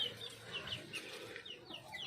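Chicks and young chickens in a morning coop give short high chirps and soft clucks, several birds overlapping continuously at a moderate distance.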